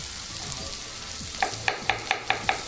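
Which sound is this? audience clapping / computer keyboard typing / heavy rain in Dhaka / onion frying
onion frying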